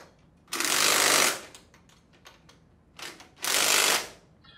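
Bolts being tightened on a Sandpiper HD20F non-metallic air-operated diaphragm pump, heard as two loud, sustained bursts of a power tool, each roughly a second long, separated by quieter mechanical clicks.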